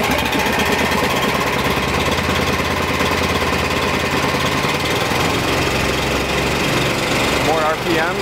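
A hot SprayMaster seal coating trailer engine, started without choke, runs to build compressor air pressure, giving a loud, steady, close mechanical drone with rapid knocking pulses throughout.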